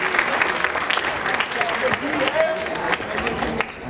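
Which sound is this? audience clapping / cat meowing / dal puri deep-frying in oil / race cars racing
audience clapping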